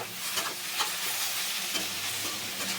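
Plantain pieces stirred with onions frying in a pan for a Telugu raw-banana curry, giving a steady soft sizzle with faint intermittent scraping strokes, close and alone without talk.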